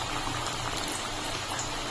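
A batch of nimki dough fries in hot oil over a low flame, making a dense, continuous bubbling sizzle that stays loud and close, with no voices.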